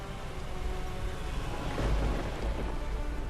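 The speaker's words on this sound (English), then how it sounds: "For 2 hours, the immense storm rages through Washington" A violent storm over Washington, with steady heavy rain and a deep rumble of thunder swelling in the middle, loud and continuous with no voices.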